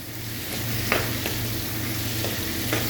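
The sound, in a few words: stirring onions and tomato frying in a pan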